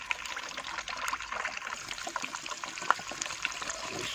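Mustard oil is poured little by little over fish frying in a pan, giving a close, continuous crackling sizzle with trickling splashes and small pops.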